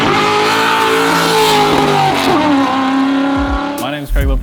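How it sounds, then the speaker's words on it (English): A 1971 Ford F100 truck built in NASCAR style holds a loud, sustained engine roar with a sweeping pitch, close by, before dropping off briefly near the end. "this truck, it sounds like Dave's GT350."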